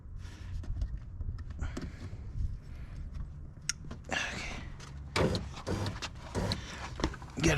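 A power window regulator in the rear passenger door of a 2010 Ford Escape XLT moves the door glass: close mechanical whirring and clunks in short bursts, with scattered handling noises in between and no talking.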